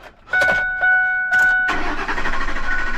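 An old truck engine cranks with a couple of short chirps and a whine, then catches and settles into a steady, close-up idle rumble.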